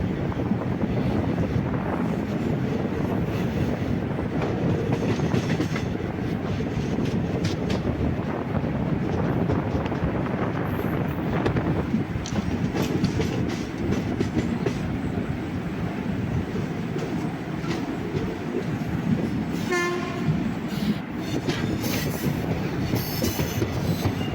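A passenger train running between Thiruvananthapuram and Kollam in Kerala gives a steady, loud rumble with rattling clatter and wind buffeting, and a brief wheel squeal late on.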